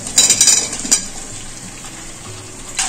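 Vegetables being sautéed in a spice paste, a close sizzle with a quick run of spoon scrapes and clinks against the pan, then a softer continuous fry.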